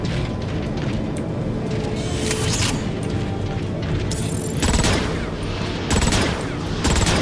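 Loud weapon fire and mechanical clanks from the Transformers: Rise of the Dark Spark video game blend into a dense, steady barrage, with sharper bursts of shots punctuating the noise and no talking.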